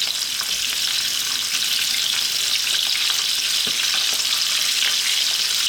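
Quail seasoned with black pepper and salt fry in a pan with a loud, steady, close sizzle that hisses on without a break, and nobody speaks.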